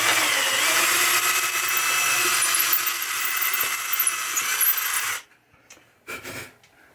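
A power drill bores out a hole in a pinball pop bumper from a 1980 Williams Firepower machine, a steady high whirring grind for about five seconds before stopping, then a few brief clicks and handling noises.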